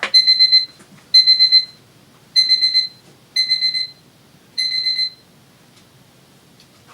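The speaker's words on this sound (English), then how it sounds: "I took my medicine right before I started this and then I forgot to turn the alarm off." A medicine reminder alarm goes off indoors in five loud, evenly spaced bursts of rapid electronic beeping, each lasting about half a second, with quiet gaps between and no one talking.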